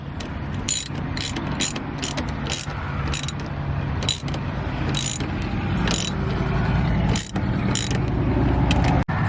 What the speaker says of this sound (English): You just put back in the bolt and tighten it.